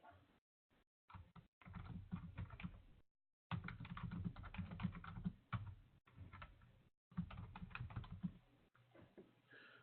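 Someone types text into a file on a Linux computer keyboard, producing bursts of quick, uneven key clicks broken by short pauses, close and fairly soft, with no talking.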